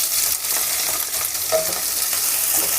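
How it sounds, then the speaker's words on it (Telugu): Chopped onions fry in hot oil in a pan for a baby corn and mushroom masala, a dense close sizzle with soft stirring scrapes and no talking. "ఆనియన్స్ వేసుకొని బాగా కలుపుకోవాలి ఇవి కూడా గోల్డెన్ కలర్ వచ్చినంత వరకు"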